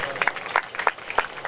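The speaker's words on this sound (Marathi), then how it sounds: "अनुज महाराजांसाठी जोरात टाळ्या वाजवा" An audience at a devotional kirtan gathering claps for a performer. The applause is short and rhythmic, with bursts of hand claps standing out over a murmuring crowd.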